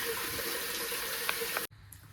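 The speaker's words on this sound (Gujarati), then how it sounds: "હું આવ્યો છું પાણી ભરવા." A kitchen tap runs steadily as water fills a container, a continuous splashing stream that stops abruptly near the end, leaving a quieter room.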